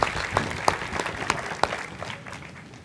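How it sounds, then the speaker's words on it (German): Applause from an outdoor audience at an open-air performance of the opera Così fan tutte, a soft, fairly distant patter of clapping with a few sharper individual claps standing out, tapering off toward the end. "Einen besonderen Applaus bitte."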